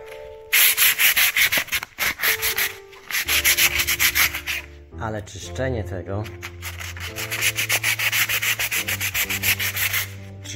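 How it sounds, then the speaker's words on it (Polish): Sandblasted oak wood being cleaned by hand, with a rough, rhythmic scrubbing and rubbing sound in repeated bursts, close and loud, with a brief pause and a moment of mechanical whirring in the middle. "czyszczenie tego dęba po piaskowaniu"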